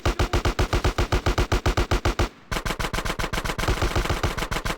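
Automatic gunfire in the video game GTA San Andreas. Loud, rapid, evenly spaced shots form two long bursts separated by a brief pause.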